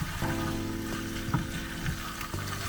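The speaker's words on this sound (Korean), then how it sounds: "삶아놓은 스파게티 면을 넣고 소스가 면에 잘 배이도록 볶아주세요" Boiled spaghetti stir-fried in Worcestershire sauce sizzles steadily in a pan, with soft scraping and clattering stirring sounds breaking through at intervals.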